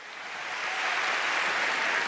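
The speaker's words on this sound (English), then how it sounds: "Give him a warm round of applause." A large audience in Singapore breaks into warm applause to welcome a speaker on stage, a dense wash of clapping that swells quickly and holds loud and steady.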